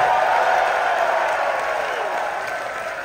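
A concert audience at ProgPower in Atlanta applauds and cheers for the drummer of a progressive metal band, making a dense, steady roar of clapping and whoops that holds loud from start to finish.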